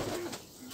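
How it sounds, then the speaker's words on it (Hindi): A tumbler pigeon gives a short, low cooing call close by, a soft warbling phrase followed by a second quieter coo, with no other sound around it. "खाली टमलिंग वाला कबूतर है।"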